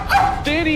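A voice playing a robot imitates a dog with a short yipping bark followed by a whining, whimpering cry, loud and close.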